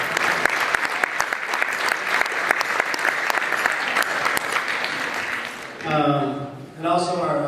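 Audience applause at a winter sports banquet for a coach, dense steady clapping for several seconds before a speaker's voice returns over a PA near the end.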